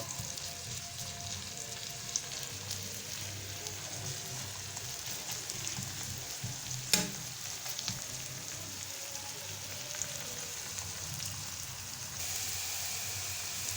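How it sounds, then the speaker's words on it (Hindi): Onions fry in ghee on the stove with a steady, soft sizzle and crackle lasting throughout, plus one brief louder tap partway through and no talking. "प्याज जो हम घी में फ्राई कर रहे हैं इसको हमने लाइट ब्राउन करना है"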